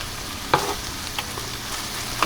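Salisbury steak patties browning in a frying pan give a steady low sizzle and frying hiss, with a few soft clicks and scrapes of a utensil against the pan.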